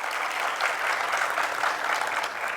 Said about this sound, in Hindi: उस सौभाग्यशाली के लिए एक बार अच्छी ताली बजा दो।